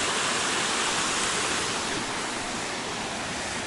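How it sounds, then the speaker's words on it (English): A waterfall heard from the top of the falls on the Appalachian Trail approach near Springer Mountain gives a loud, constant roar of rushing water that fills the whole clip without a break. "this is the top of the falls, all the way down there where I started"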